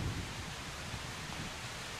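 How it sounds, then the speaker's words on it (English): Heavy rain from a building storm in the Project Zomboid video game, a steady, dense hiss of downpour filling the whole stretch without a break and no voices over it. "Rain's getting pretty hard."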